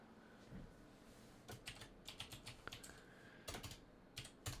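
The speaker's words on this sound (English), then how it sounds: "Now I'm typing up some names" Quick bursts of keystrokes on a computer keyboard, clustered in short irregular runs with brief pauses between, close and fairly quiet against a faint room hum.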